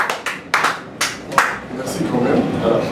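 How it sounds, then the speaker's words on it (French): A few scattered audience claps ring out near a French-speaking presenter, then fade as a voice takes over and murmured talk continues underneath. "Applaudissez."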